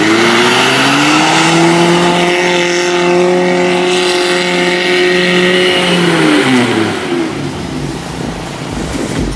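Toyota Kijang car engine revving hard and holding a high, steady pitch, then dropping back as the revs fall off, loud and close.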